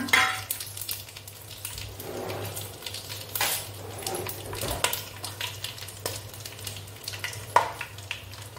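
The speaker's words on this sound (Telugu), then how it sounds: "నేనైతే ఇక్కడ ముందుగా తీసుకున్న బిర్యానీ సరుకులు అయితే ఒకసారి వేసేసుకున్నాను" Biryani ingredients fry in a pan at home with a steady, soft sizzle and crackle, broken by occasional stirring scrapes and light clinks. No one speaks.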